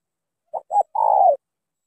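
A bird calls in a forest: two short, clipped notes followed by one longer drawn-out cooing note, clear and close with no other sound around it.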